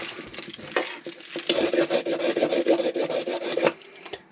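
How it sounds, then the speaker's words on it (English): Carrots are peeled with a hand peeler, giving a run of quick, close scraping and rasping strokes in an uneven rhythm, some louder than others, with no talking. "Peeling up some carrots here."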